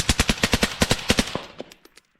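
A suppressed machine gun fires a rapid burst of about a dozen evenly spaced, punchy shots, close and loud, then a few trailing rounds as the burst stops and fades into quiet.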